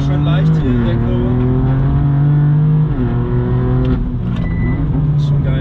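Loud tuned BMW M2 lapping a racetrack, heard from inside the car, its engine droning steadily with rising and falling revs and gear changes, while people talk over it.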